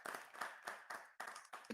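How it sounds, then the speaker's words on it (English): A small audience gives a short burst of clapping at an online legal design event, a handful of quick, uneven claps spaced by brief gaps, fairly faint and without voices. "I think we can clap."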